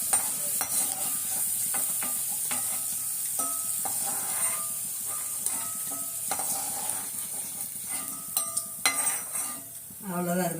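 Pirandai (adamant creeper) being sautéed in a pan at home, a soft sizzle running under repeated scraping and clinking of a metal spoon stirring against the pan.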